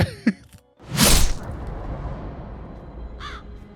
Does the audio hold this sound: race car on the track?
no